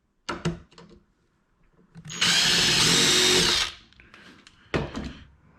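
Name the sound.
power drill drilling pilot holes in cabinet drawer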